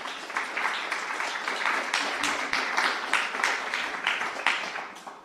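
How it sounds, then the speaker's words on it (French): Applause from a seated audience at a panel discussion on nature's rights, many hands clapping in a continuous, moderately loud patter that holds steady for about five seconds. "Je vous demande de les applaudir toutes les 3."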